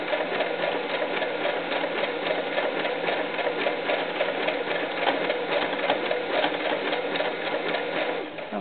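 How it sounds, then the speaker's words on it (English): A sewing machine stitches fabric for a doll's ruffled skirt, its motor running in a steady, even whir without pause from start to finish, close and fairly loud. "So what you do is you just line this up and go ahead and sew."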